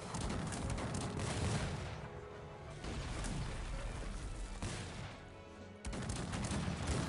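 Dragoons firing in the Cossacks 3 strategy game, dense overlapping volleys of musket fire and crackling shots forming a continuous loud barrage with bursts and brief dips.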